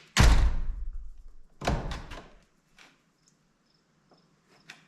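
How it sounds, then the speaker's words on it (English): Heavy high-efficiency windows and doors in a passive house swinging shut, two solid thuds with a rattling decay, followed by quiet with faint small clicks and a light knock at the end. "The weight of these windows and doors gives them a very satisfying opening and closure."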